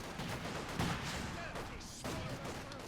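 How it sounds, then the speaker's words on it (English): PTRS anti-tank rifle fire in Company of Heroes 2 cracks out amid a busy battle, shots and bursts overlapping in a dense, fairly quiet clatter with several sharper hits. "so PTRS fire"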